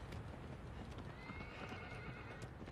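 A horse whinnies and its hooves clip-clop steadily in the video game Shadow of the Colossus, the neigh rising clearly over the rhythmic hoofbeats.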